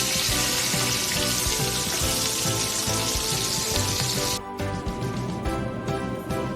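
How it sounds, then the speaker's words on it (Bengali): Pieces of katla fish dropped into hot oil give a loud, dense sizzle that crackles steadily, then thins to lighter intermittent spitting toward the end. "দিয়ে দিলাম গরম তেলে মাছগুলো।"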